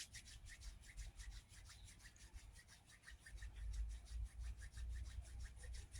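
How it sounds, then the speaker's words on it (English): Palms rubbed together quickly during a breathwork exercise, giving a continuous dry swishing friction with a fast, steady back-and-forth pulse. It sounds close and fairly quiet, with a low rumble underneath. "And rubbing your palms fast."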